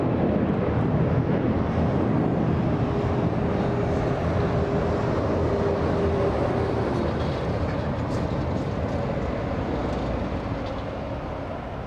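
A United Airlines Boeing 757 jet passes over LAX as a broad, steady roar that holds loud for the whole stretch and fades slightly at the end, with no talk.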